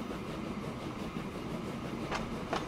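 A freight train hauling a full load of bricks in the game Transport Fever 2 rolls along with a steady rumbling drone, with two faint clicks of wheels on the track near the end.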